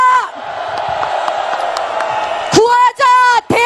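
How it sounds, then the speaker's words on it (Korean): A political party rally crowd in South Korea roars in response to a call from the stage. A loud surge of cheering and shouting is followed by sharp bursts of amplified voices. "함성을 지릅시다."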